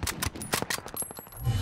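Rapid bursts of automatic gunfire from a video game shooter, a fast repeating string of sharp, loud shots that runs through the whole moment with no talking over it.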